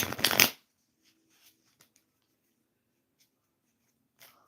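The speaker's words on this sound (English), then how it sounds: "So I'm shuffling the cards for Sophia." A tarot deck is shuffled by hand in a quick, close burst of riffling cards at the start, then near silence with a few faint taps and light handling sounds.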